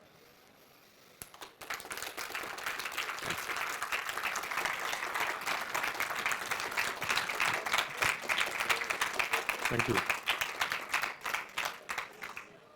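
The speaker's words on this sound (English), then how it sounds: "this really deserved some kind of applause" Conference audience applauding after a talk at 38C3, sustained dense clapping that starts abruptly and swells louder, with a brief spoken thanks near the end.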